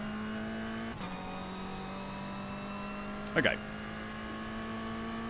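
Touring race car engine in a racing video game holding a steady drone and revving in pitch while cruising on track, with a brief spoken word partway through.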